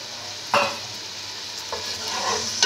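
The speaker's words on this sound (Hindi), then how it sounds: "अब इसके अंदर ये मैं प्याज फ्राई करूंगी" Grated onions frying in about 50 to 60 grams of oil with whole spices in a pot, a steady broadband sizzle broken by a few sharp stirring scrapes, close and fairly loud with no talking.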